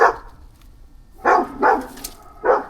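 Two poodles next door barking, a few sharp close barks in quick succession after a short pause, loud and clear with no talk over them.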